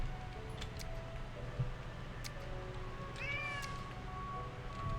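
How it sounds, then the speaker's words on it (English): A hungry cat meows loudly and insistently nearby. A drawn-out rising and falling call stands out over a steady low background hum. "my cat is hungry and wants food"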